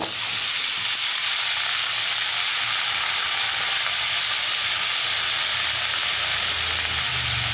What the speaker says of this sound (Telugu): ఈ టమోటా ముక్కలు ఈ ఆయిల్లోనే మగ్గనియాలి